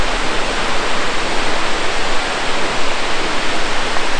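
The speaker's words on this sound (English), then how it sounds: "So you get a nice waterfall at the end." Waterfall in a canyon in Turkey, a loud steady rush of falling water heard close up, broad and unbroken throughout with no voices.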